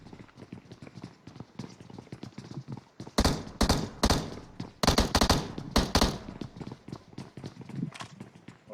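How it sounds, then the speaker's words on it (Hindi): Gunfire in the battle-royale game PUBG: several loud, sharp bursts of shots cluster from about the third second onward. Fainter, rapid ticking and game noise run underneath the shots. "यार आज तो शुरू से ही गोली चलना शुरू हो गई है।"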